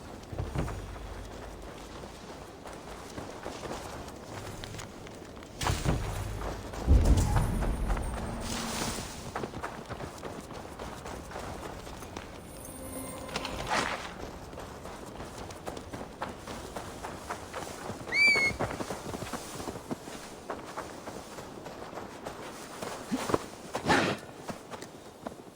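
Horse hooves walking in Assassin's Creed Valhalla, a steady clip-clop of footfalls running through the whole stretch over game ambience, with louder bursts and a brief tonal effect partway through.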